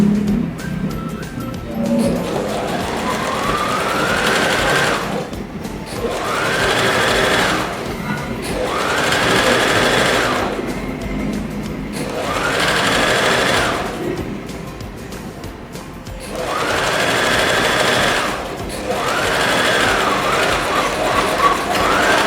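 A sewing machine stitches a brocade vest strap in loud, rapid bursts of mechanical whirring that start and stop several times, each run lasting a few seconds and separated by short pauses.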